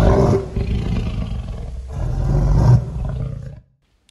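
A big tiger roaring, two long deep rumbling roars close and loud, the second building to a peak before cutting off into silence.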